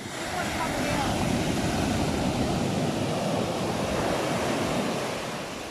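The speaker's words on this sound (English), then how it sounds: "I just gotta wait till the waves are right. This one's coming in." Pacific Ocean waves break and wash continuously along the shore, a loud, full roar of surf with wind buffeting the microphone and no pause in the churning water.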